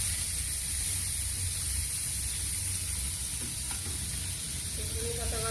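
Onion, tomato paste and chili paste fry in very hot oil, a loud, dense, continuous sizzle and hiss with a few faint utensil scrapes near the end.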